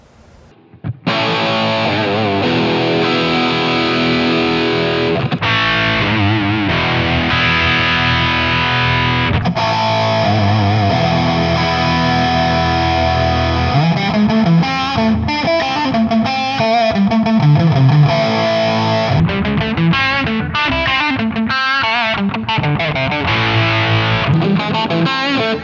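Heavily distorted electric guitar through HX Stomp and POD 2.0 amp simulations, a 2204 model on the HX Stomp and Brit High Gain on the POD, loud chords and riffs with sustained high-gain tone and brief pauses.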